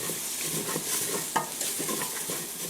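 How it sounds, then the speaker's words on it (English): Spices and onions toast in a hot pan for chana masala while being stirred, giving a soft, steady sizzle broken by scraping stir strokes, with no talking. "So stir them around and they basically coat the onions"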